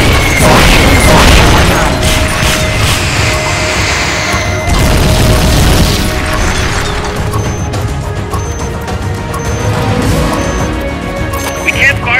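Supporting-fire explosions in the video game Metal Gear Solid: Peace Walker, a dense, loud barrage of booms and crashes rolling continuously, with game voices talking over it.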